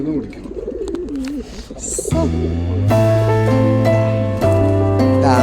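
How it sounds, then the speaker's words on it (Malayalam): A kathanga pigeon coos in a repeated, low, steady call near by, rising and continuing loudly through most of the stretch after a short bit of quieter chatter and ambient noise. "ഈ പ്രാവിന്റെ പേരെന്താ കത്തങ്ങ കത്തങ്ങ പ്രാവാണിത്"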